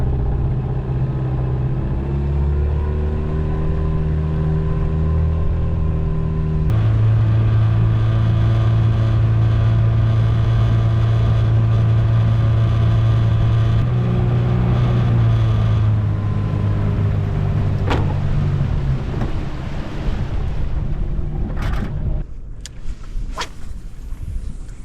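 A fishing boat's outboard motor runs downstream on a river in spring, giving a loud, steady engine drone that shifts pitch as the throttle changes, with wind and water noise and a few sharp knocks near the end.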